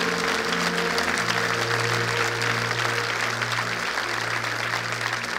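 Church congregation applauding in a steady, moderate burst of clapping that holds through the short stretch, heard alone with no talk over it.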